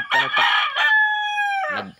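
A rooster crows loudly and close by on a countryside farm, a long drawn-out call preceded by a few clucks and ending with a short squawk.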